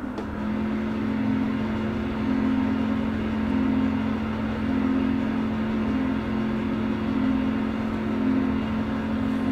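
A racing game car engine, driven with a Logitech G27 wheel, holds a steady, humming drone with slight surges in pitch, sustained and fairly loud with no voices over it.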